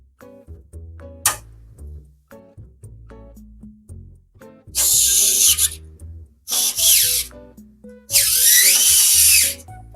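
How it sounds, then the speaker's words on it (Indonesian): A graphics card is being screwed into a PC case with a power screwdriver, giving three close, loud whirring bursts of about a second each, the last one longest, over soft background music. "Sekarang kita tinggal baut lagi si graphic cardnya."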